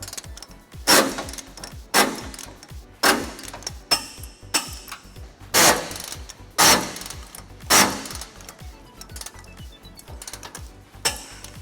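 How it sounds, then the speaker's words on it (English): A ratchet with a 19mm socket tightens trailer hitch bolts on a 2000 Ford Ranger, giving bursts of rapid clicking in a rough rhythm of about eight loud pulls, close up and without talk. "We're going to be using a 19mm socket to tighten all those down."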